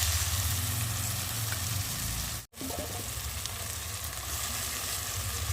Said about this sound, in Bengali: আর এখন আমি সেদ্ধ করে রাখা আলুগুলোকে দিয়ে ভালো করে নেড়ে নেব।